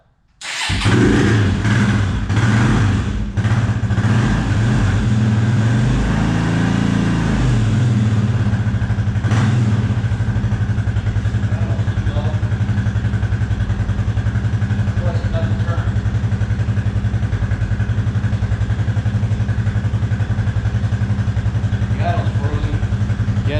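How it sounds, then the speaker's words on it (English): A 2004 Suzuki LTZ250 ATV engine is cranked and catches quickly, then runs loud and close with a few throttle blips and rising revs before settling into a steady, rough idle for the rest of the stretch. "let's see if we can get it started now. With the charger on it. Get a little bit of throttle."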